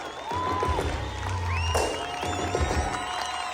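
A graduation ceremony crowd at Yıldız Technical University breaks into applause and cheering, a broad roar of clapping with whoops and shouts rising over it, plus a few whistles and voices in the mix.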